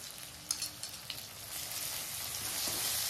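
Garlic and green chili paste hits fried tomatoes in a hot pan with a couple of spoon taps, then a quiet sizzle that swells gradually into a steady frying hiss.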